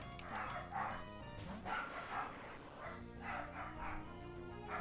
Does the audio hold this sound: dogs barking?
yes